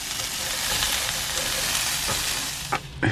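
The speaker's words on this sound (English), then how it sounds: "Give it a stir." Broccoli florets and thinly sliced stalks fry in a pan on a small stove inside a van, a steady loud sizzle with a few scraping knocks from stirring near the end.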